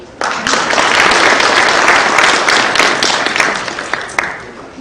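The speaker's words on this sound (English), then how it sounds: "can we give them a better round of applause?" Dense, loud applause fills a university PhD programme launch ceremony, beginning abruptly and holding steady as a continuous wash of many hands before tapering slightly near the end.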